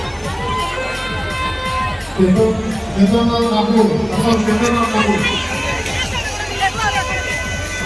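A dense, noisy crowd at the Rath Yatra festival surrounds the listener, with babble, shouts and cheering throughout, under close talking voices and rhythmic drumming.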